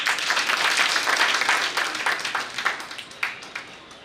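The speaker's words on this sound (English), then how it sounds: "She deserves a big round of applause by all of you" A lecture audience at a memorial lecture applauds a speaker, with dense clapping that thins into scattered individual claps toward the end.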